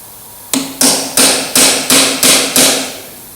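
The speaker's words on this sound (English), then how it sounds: "I'm just going to use a very fine chisel and just try and tap it between" A fine chisel is struck with a hammer on a part of a Ferguson TEA20 tractor under overhaul, giving seven sharp, loud metallic blows in a quick, fairly even rhythm, close by.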